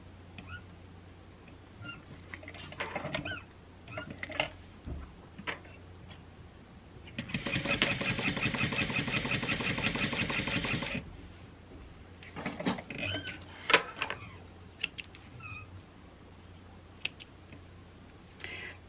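A Juki 1181 sewing machine stitches a bag in one steady run of rapid needle clatter lasting about four seconds. Scattered soft handling clicks and rustles come before and after it.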